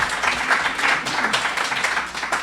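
A short burst of audience applause at a rabbi's lecture on ancient Jewish discoveries, with steady, fairly close clapping that holds for the whole couple of seconds.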